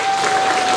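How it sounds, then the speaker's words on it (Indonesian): A seminar audience on parenting and children's self-confidence claps in a brief, dense burst, with a faint steady electronic hum running beneath. "Berikan tepukannya kepada Bapak yang telah memberikan tepukan."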